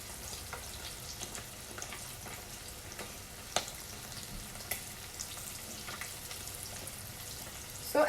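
Frying for Japanese tofu with minced pork sauce, a soft, steady sizzle heard fairly far from the pan, with occasional clinks and stirring knocks and no talking.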